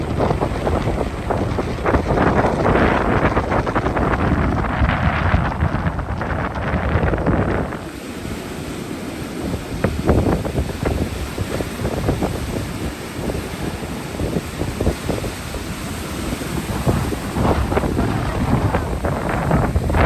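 Strong wind and crashing waves at Lovers Beach in the North Berry Islands, with heavy gusts buffeting the microphone in a loud, continuous roar that dips briefly before surging again.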